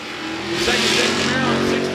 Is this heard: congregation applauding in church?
no